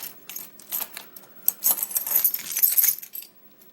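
Metal keys jangle and clink together for a few seconds, close and bright, in uneven bursts that swell in the middle and fade out near the end; the keys belong to a lock collection.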